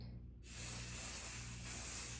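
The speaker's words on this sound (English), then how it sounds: "And we're going to spray it with our basting spray." Basting spray hisses from an aerosol can onto quilt batting in one long, steady, close spray lasting nearly two seconds, with a faint low hum underneath and no talking.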